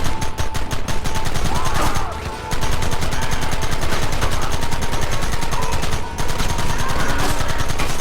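A Red Dead Redemption shootout: loud, close gunfire crackles in rapid overlapping bursts, like a fusillade, with two brief lulls before the volley resumes.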